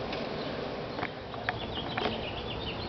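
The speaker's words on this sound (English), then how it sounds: "Got bees out here. Got beehives." Honey bees buzz around a swarm box during a swarm removal, a soft, continuous insect hum with a few individual bees passing close by, fairly faint and with no voices.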